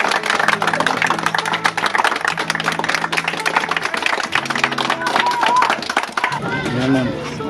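Audience clapping for a guest in a home setting, scattered hand claps running under loud ongoing talk, with a voice over them and background clatter, fading near the end.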